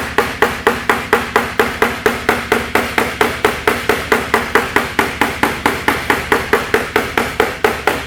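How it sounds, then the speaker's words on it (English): A body hammer taps a dented metal panel in a quick, perfectly steady rhythm, about four light, ringing strikes per second, close and continuous. "we're going to take our body hammer and we're going to tap on this brow"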